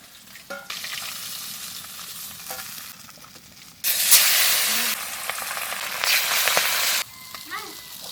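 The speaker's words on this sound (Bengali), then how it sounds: "মাছটা ভাজা হয়ে গেছে" Sea fish sizzling in hot oil as it is stirred and turned in the pan, with quieter frying that swells into louder bursts of crackle and hiss partway through.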